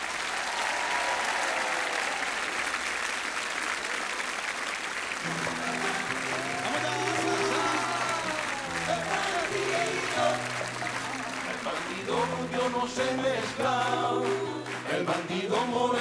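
A large audience applauds performers at a concert with 300 choirs, dense steady clapping throughout while music with sustained tones rises beneath it in the second half.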